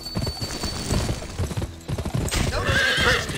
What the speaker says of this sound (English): Press the sprint button to spur your horse.